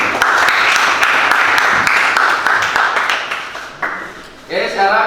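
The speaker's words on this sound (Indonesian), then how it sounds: "Beri tepuk tangan." A classroom audience applauds after a group presentation, with a brief burst of scattered hand claps mixed with voices from people in the room.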